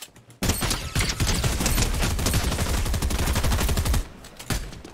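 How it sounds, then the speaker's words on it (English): Rapid sustained bursts of gold tactical SMG fire in Fortnite, one continuous full-magazine volley of close, loud automatic shots, then a brief pause and a short trailing burst. "That was one clip of this gun. This gold, whatever tactical SMG."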